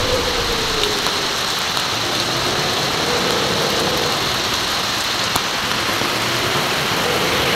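A downpour during a storm, heavy rain drumming on surfaces in a steady, unbroken wash, with gusty wind folded into the broad noise and a faint low rumble beneath, no voices.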